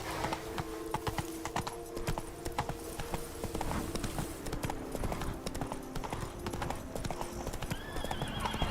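A horse gallops in The Witcher 3: Wild Hunt (Blood and Wine expansion), with steady rhythmic hoofbeats and a neigh over game music.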